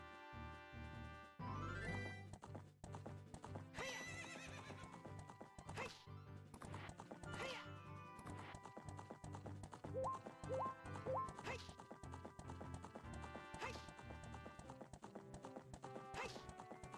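Epona the horse in Ocarina of Time, summoned with game music, then clip-clop hooves and a short neigh amid busy melodic game sounds, with faint commentary voices behind.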